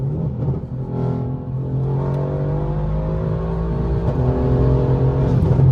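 Tuned Mercedes C63 AMG V8 accelerating from inside the cabin, a loud continuous engine drone rising steadily in pitch with intake noise, no talk over it.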